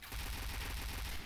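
Rapid gunfire from a video game, a dense, continuous burst of automatic shots heard up close and loud without a break through the whole moment.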